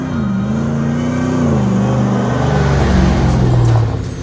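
A restored Land Rover Defender 110 with a 650 hp LT4 engine, eight-speed automatic and dual exhaust revs up loudly close by, the engine note climbing, holding and then settling in a deep rumble.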